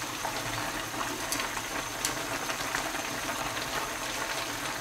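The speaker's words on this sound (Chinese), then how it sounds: "现在已经开锅了" A large pot of Chinese mixed stew comes to a rolling boil, giving a steady dense hiss of bubbling with a few brief pops, close and continuous without speech.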